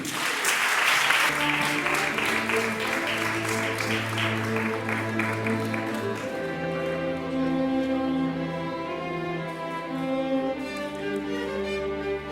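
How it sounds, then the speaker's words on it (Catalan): Audience applause at a band concert fills the first half, dense and bright, then gives way to sustained tonal music from the band as the clapping fades out. "un fort aplaudiment a Antonio Miguel Coll San Martín"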